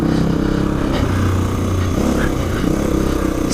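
An XR400 dirt bike engine drones steadily up close as the rider works over a log off-road, a low continuous motor rumble with slight revving swells.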